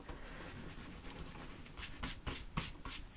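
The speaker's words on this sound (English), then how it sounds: "I'm just gonna go ahead and erase it and write it a lot neater" Pencil writing is erased from a bullet journal page with an eraser in quiet, close rubbing strokes that speed into a quick series of louder scrubbing bursts toward the end, with no talking.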